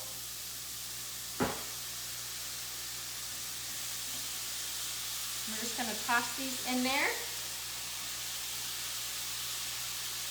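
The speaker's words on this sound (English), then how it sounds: "you hear the sizzle?" Steady hissing sizzle of gluten-free bagel sandwich patties frying in a pan on medium heat throughout, with a brief clatter and someone speaking briefly over it.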